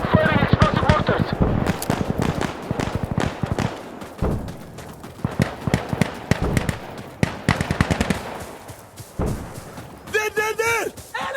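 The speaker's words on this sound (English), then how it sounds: "Firing explosive mortars" Explosive mortars fire and detonate in the game Insurgency Sandstorm: dense, rapid booms and crackling blasts pile up loudly and continuously, ending with a burst of high, tonal effects.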